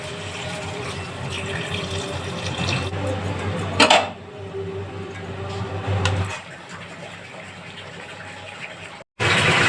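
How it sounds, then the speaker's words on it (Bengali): Water is poured into a cooking pot of bottle gourd curry with shol fish, a steady rushing pour that runs for several seconds, then thins and stops. "তো আমি এবার জল দিয়ে দেব।"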